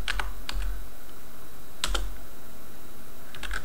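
Keystrokes on a computer keyboard come in a few quick clusters of crisp clicks separated by short pauses, close and clear with no talking, as a sudo command is typed.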